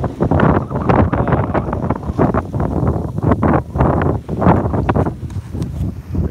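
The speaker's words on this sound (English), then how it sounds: "we're just sailing down the bay" Gusty wind buffets the microphone aboard a sailboat moving down a bay, loud and continuous with rushing, uneven surges.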